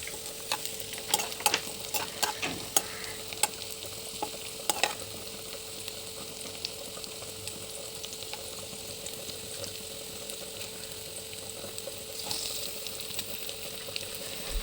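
Ingredients for a Kerala-style crab roast sauté in a pan, giving a steady soft sizzle with scattered clicks and scrapes of stirring, loudest near the start, with no talking.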